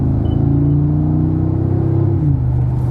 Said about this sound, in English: the noise of this 4-liter V8 bi-turbo engine is just insane.